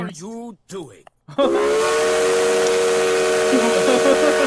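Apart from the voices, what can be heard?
three-chime steam whistle sound effect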